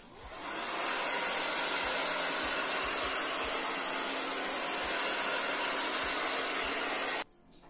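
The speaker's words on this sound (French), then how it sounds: "Je sèche au sèche-cheveux." A hair dryer blows with a loud, steady whooshing roar for several seconds, drying paint, then cuts off abruptly.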